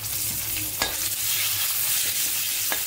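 Green chillies sauté in oil for sambar rice (bisibelebath), with a close, steady sizzle and a few spaced stirring scrapes against the pan.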